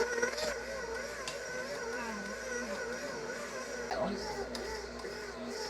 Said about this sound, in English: So I'm gonna let this mixer go until the ball is kind of stiff, smooth, but pliable